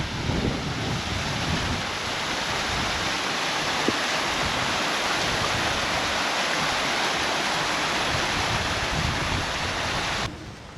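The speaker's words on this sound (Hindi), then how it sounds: "वाह, एक छोटा सा फाउंटेन आ गया भाई, एक प्यारा सा झरना।" A small waterfall beside a mountain trekking trail in the Valley of Flowers, feeding a stream toward the Pushpawati river: a constant, loud, broadband rush of falling water heard close up, with no voices over it.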